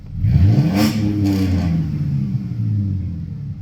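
A Mazda RX-7 with a muffler delete revs hard inside a barn, a loud, close rasp that climbs quickly, then settles into a rough, resonant idle-like drone with rattly undertones.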